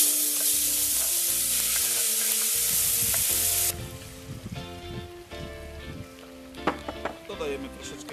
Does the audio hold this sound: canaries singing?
no